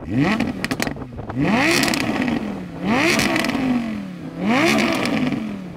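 An Audi R8 V10 engine revs hard three times in a row, each rise swelling to a loud, roaring peak and falling back, with a rasping exhaust note close by.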